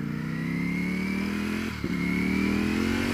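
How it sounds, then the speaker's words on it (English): A Ducati V4 Panigale road bike revs hard under acceleration, a loud, high-pitched engine note climbing steadily with a brief dip at a gear change before rising again. "The Ducati V4 Panigale, easily the fastest road bike you can buy."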